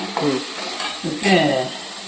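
Garlic fries in a pan with a steady, close sizzle, while brief voices murmur over it.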